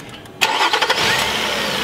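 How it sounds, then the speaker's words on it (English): Nissan Murano engine cranks and catches, a short starter whir giving way to a loud, steady idle close by, with no talking. "So let's go ahead and start the engine."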